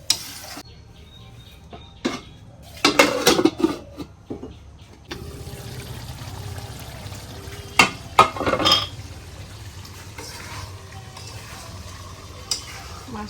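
Utensil stirring papaya and fish curry, made with native koi and shing fish, in a covered pot: a few clinks and scrapes of metal against the pot over a low simmering bed, with quiet gaps between.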